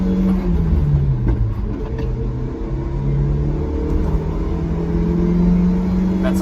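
Inside the cab of a pickup truck fitted with sound deadening panels, the engine revs steadily up to 6,000 rpm, a continuous loud droning hum with a rising and falling pitch and no talk.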